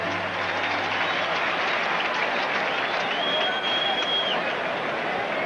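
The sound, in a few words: baseball stadium crowd applause for batter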